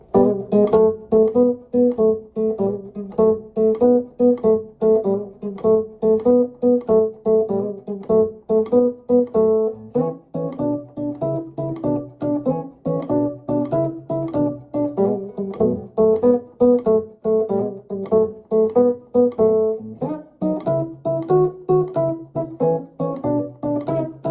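An electric guitar plays a complete early Chicago blues pattern using open strings, moving through the changes in a steady shuffling rhythm of repeated plucked figures, close and unaccompanied, with no talking for about twenty-four seconds.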